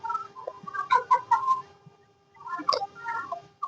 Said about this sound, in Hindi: मुर्गा देखो ऊपर चढ़ा हुआ।